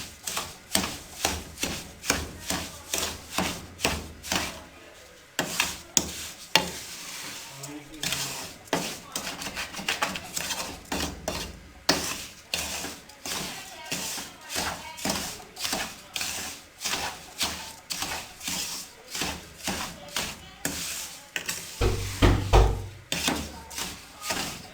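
Metal spoon scraping and tapping in a pan as sugar is stirred into suji halwa, a steady run of quick, close clinks and scrapes that continues throughout without a break.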